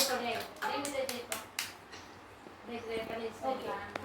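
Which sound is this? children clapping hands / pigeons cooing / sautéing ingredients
children clapping hands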